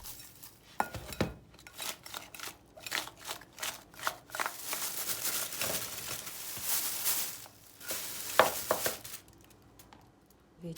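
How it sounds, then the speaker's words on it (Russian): A spoon clatters and scrapes in a bowl while onion, bell pepper, tomato, salt and pepper get mixed, irregular close clinks and knocks in bursts with no talking. "Добавляем соль, перец. Все это хорошенько перемешиваем."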